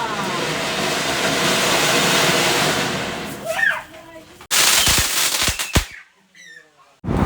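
Sharp firecracker bangs for Vishu celebrations burst out in quick succession over a steady hissing background, with brief quieter gaps between the loud cracks.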